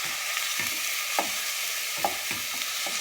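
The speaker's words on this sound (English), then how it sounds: "As soon as I throw it in, I start with my wooden spoon just to break it up." Lean ground beef sizzling steadily in a hot pan while a wooden spoon breaks it apart, with soft scraping and stirring knocks recurring over the constant frying hiss.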